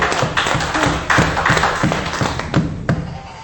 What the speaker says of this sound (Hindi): तालियों से इस्तकबाल किया जाए।